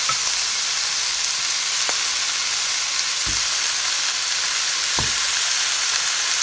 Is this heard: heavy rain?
no